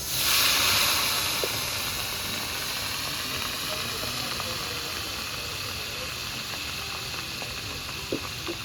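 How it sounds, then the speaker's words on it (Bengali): Onion paste fries in a pan with a steady, close hiss and sizzle that is loudest at the start and then settles, broken by a few small pops. "যে ফার্স্টে দিয়ে দিই মুই এই যে পিঁয়াজ বাটা"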